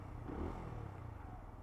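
A Benelli Leoncino 125cc motorcycle engine idling or running steadily nearby, a low, even rumble at quiet level with a faint clattering texture, no voices.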